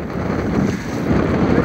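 Strong, hard-pulling wind buffets a fishing boat at sea as it prepares to anchor, a steady dense roar of wind and water rushing close to the microphone throughout, with no talking.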